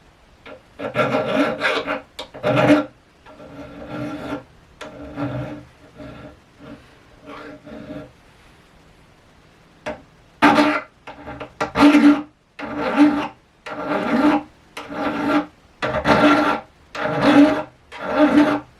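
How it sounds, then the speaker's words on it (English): Guitar fret ends on a jazz guitar being restored are filed down by hand in repeated close, raspy scraping strokes, with a brief quieter pause midway before the rhythmic filing resumes. "Just filing down the fret ends, the longest ones,"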